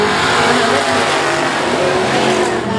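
Race cars accelerate at a green-flag restart in a pro main event, a loud, continuous roar of engines revving together at close range with no pauses.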